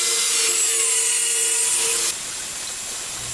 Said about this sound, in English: So after using the angle grinder